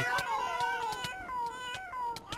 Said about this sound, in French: Les elfes qui font des bruits de chat.